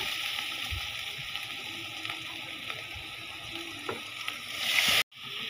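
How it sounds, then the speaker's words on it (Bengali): Water poured into a hot pan of beef cooked with chili powder and turmeric, giving a steady hiss and sizzle with faint stirring clinks. The sizzle swells briefly near the end before cutting off sharply. "এখানে একটু পানি দিয়ে দিই।"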